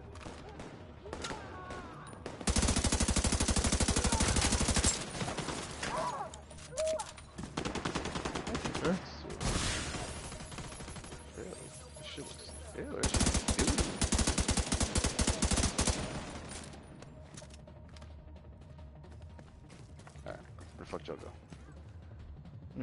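Gunfire in The Division 2 co-op play, with dense bursts of automatic fire in several loud stretches between quieter gaps, close and harsh, people talking over it.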